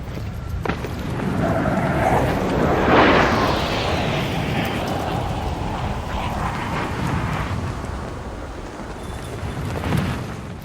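A deep, rumbling Arc Raiders video game explosion swells and rolls on for several seconds, followed by a lingering roaring wash with a smaller burst near the end.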